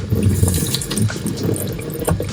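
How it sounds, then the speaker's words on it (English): Hot water gushes steadily from a tap in an RV supplied by a propane water heater, a loud continuous splashing stream with slight fluctuations and no talking. "the hot water is coming through the system"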